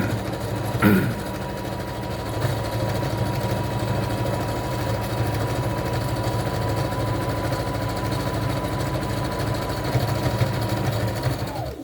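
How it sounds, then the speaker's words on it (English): A sewing machine runs steadily along a fabric edge for a fish body craft, giving a continuous close mechanical whir with rapid needle rhythm from start to finish before stopping at the end. "I'm going to go back in the opposite direction and sew this other edge down"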